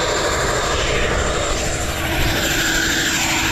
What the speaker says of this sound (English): This is the airstrip, Migori airstrip. There's a lot of noise.